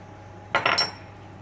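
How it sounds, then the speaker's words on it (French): A utensil stirring olives with olive oil, thyme and garlic in a bowl gives a brief burst of two or three close clinks, with quiet on either side. "On va bien mélanger."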